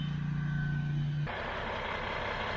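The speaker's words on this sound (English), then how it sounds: "This is the truck the cabin came on." A delivery truck that brought in an off-grid cabin gives a steady low reversing beep at close range for about a second, then cuts off, leaving a broad rumble of engine and outdoor noise.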